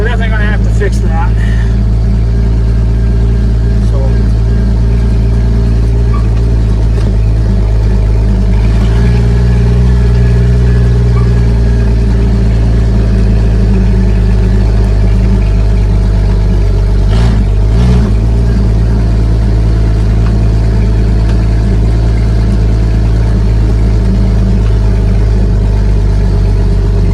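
An International Harvester L-130 truck engine runs loud and close throughout, a dense low rumble with slight shifts in pitch as it drives, while someone talks over it.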